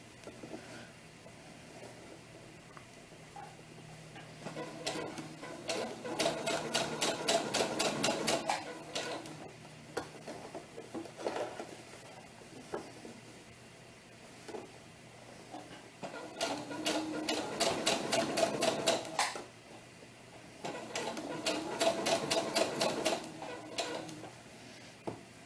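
A sewing machine stitches a doll tunic in three separate runs of rapid, rhythmic clicking, each lasting a few seconds, with quieter handling noises and pauses in between, heard close up.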